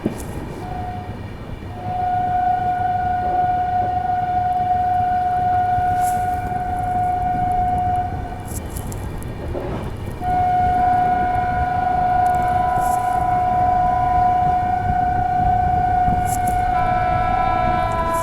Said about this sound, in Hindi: सामने से आ रही है पुरी से चलकर आनंद विहार की ओर जाने वाली पुरुषोत्तम एक्सप्रेस। बहुत बढ़िया रफ्तार में आ रही है।